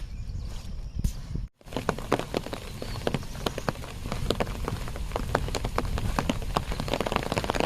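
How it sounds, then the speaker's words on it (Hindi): Sudden rain in a jungle near Corbett, a steady patter of drops striking surfaces close by, with sharp individual taps over a constant hiss that grows denser and louder after a brief dropout. "अचानक से बारिश आ गई"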